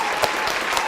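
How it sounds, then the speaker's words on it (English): Game show studio audience applauding for a competing team, a steady wash of clapping filling the whole short moment at moderate loudness. "let's have a big round of applause"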